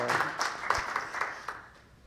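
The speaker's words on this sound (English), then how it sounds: "I'll just ask you to give some applause" An audience at a lecture on Gnosticism and early Christianity claps to welcome a speaker, a brief ragged patter of separate hand claps, moderately close, that thins out within two seconds.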